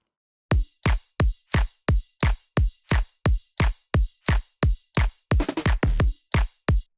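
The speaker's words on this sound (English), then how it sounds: "So the drums on its own in the first drop sound like this." Isolated drum and bass drum pattern from a first drop: a steady run of punchy kicks layered with a top kick and snappy snares, evenly spaced hits with a brief busier fill near the end, loud and alone.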